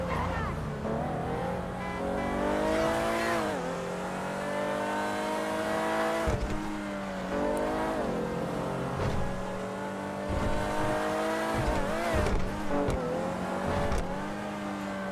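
A Debauchee Wagner supercar in GTA 5 Online roars along, its engine revving up and down through gear changes with brief tire squeals, loud and continuous throughout.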